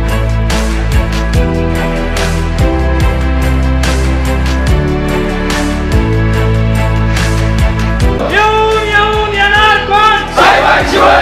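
Party workers celebrate a candidacy in Buranagar, Ahmednagar, with loud whoops and shouting over pounding drum-like music, rising into a burst of yells and crackling near the end.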